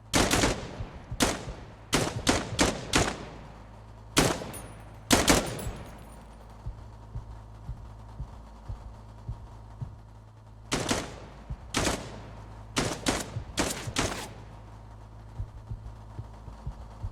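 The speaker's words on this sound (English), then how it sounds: "Keep shooting." Gunfire in Dagger Directive comes in two clusters of sharp, loud shots with a quieter stretch of low hum and faint distant pops between them.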